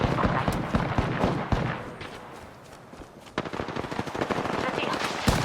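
Rapid automatic gunfire in Apex Legends comes in dense bursts, loud and close, with a short lull in the middle before firing resumes amid game effects.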